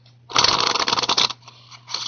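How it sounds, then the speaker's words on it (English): A pack of playing cards is shuffled in a close, dense riffle of papery flutters lasting about a second, then a few softer card slides follow, with no talking. "what you do is you just give the pack a couple of shuffles"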